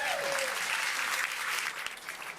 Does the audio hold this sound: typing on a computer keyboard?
no